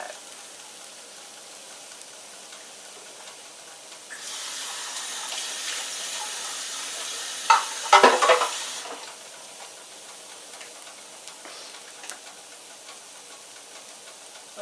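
Onion sautéing in a pan for Northern Italian lemon chicken, with a soft hiss swelling into a louder sizzle midway, punctuated by a brief clatter of stirring before settling back to a quiet simmer; no talking.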